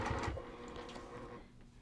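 A sewing machine runs a quarter-inch seam along the raw edges of a cross-stitch zippered pillow, giving a brief, faint, steady mechanical whir with no talk.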